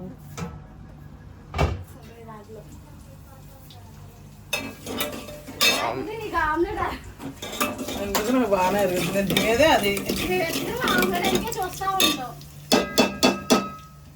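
Pots, pans and metal utensils clank and scrape in a home kitchen while chutney is made, irregular knocks and stirring with a burst of sharp clatters near the end, with people talking over it.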